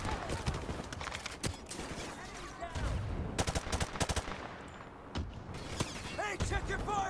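Gunfire in the video game Call of Duty Modern Warfare Remastered, with rapid bursts of automatic shots and scattered single cracks, loud and close, mixed with game voices and noise.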